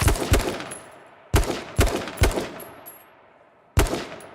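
Gunfire traded in PUBG, shots striking around a tree: several loud, sharp bursts arrive in separate clusters with pauses between, each crack decaying quickly, with no talking.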